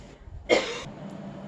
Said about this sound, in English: I'm sorry about that coughing and hacking fit